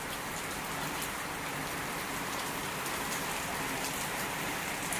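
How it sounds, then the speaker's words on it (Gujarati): Steady, dense rain pours down continuously, a constant even hiss with no voices or breaks. "વરસાદ ચાલુ પડે છે સતત ચાલુ છે"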